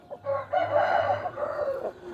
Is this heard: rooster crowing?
yes